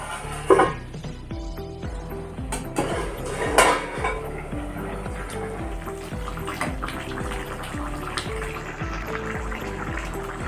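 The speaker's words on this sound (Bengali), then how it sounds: "এবার আমি ঢাকনা দিয়ে ঢেকে কিছুক্ষণ রান্না করে নেবো" A lid goes onto a cooking pot of singi fish curry with bitter gourd, giving a few sharp metallic clanks and clatters of metal on metal, then quieter utensil taps and a soft simmering background, close and without talk.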